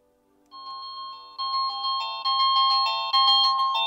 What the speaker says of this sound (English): We have a ringtone chosen. We have a volume of 5 levels and about 10 ringtones.